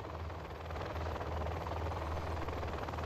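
A Combat Chinook helicopter in the video game Command & Conquer Generals Zero Hour gives a loud, steady rotor drone with a deep throbbing low end, continuous and alone for the whole stretch.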